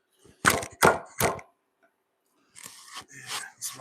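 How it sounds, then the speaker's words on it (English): A wooden corner brace being sized with hand tools in a woodshop: three sharp scraping strokes close to the mic, a pause, then softer rasping strokes, all quiet. "What you hear right now is me sizing this brace in here."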